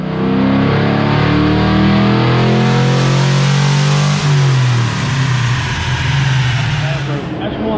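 A 1967 Camaro engine runs wide open on a dyno, roaring loud and close as it rises in pitch, then drops back to a rough, burbling idle, with voices mixed in.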